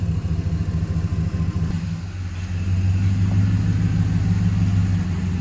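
A 2011 Chevrolet Silverado Z71 LT truck engine runs steadily at idle in a shop, a loud, constant low rumble with a brief dip before settling back to an even hum; no talking.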